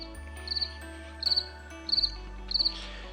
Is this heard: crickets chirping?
yes